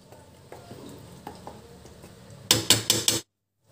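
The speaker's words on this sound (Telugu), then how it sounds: "ఈ విధంగా ఆయిల్ అంతా కూడా చింతకాయ తొక్కుకి పట్టే విధంగా కలుపుకున్నాను" Raw tamarind pickle being mixed with oil gives soft scraping and clinking stirs at first, then a burst of four louder, rhythmic scrapes against the vessel before the sound cuts to silence.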